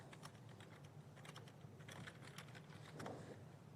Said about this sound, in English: now if I go back to my terminal and I try and type commands